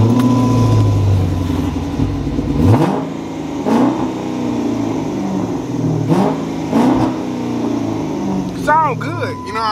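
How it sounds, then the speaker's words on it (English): A 2007 Chrysler 300C with a catless exhaust starts and revs outdoors in the rain, several loud throttle blips rising and falling close by, with someone talking over it. "Let's give it a start."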